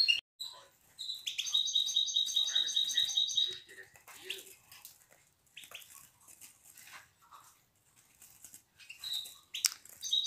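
Young goldfinch chicks chirp in high, rapid trills and short repeated calls, with bursts separated by quiet gaps, close and clear with no speech.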